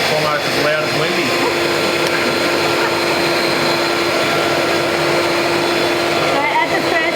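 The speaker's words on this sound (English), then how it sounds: "I found it best to use the dough hooks on your mixer rather than the other hooks." An electric mixer fitted with dough hooks works choux pastry dough, a steady loud whirring motor drone that runs unbroken throughout, close by.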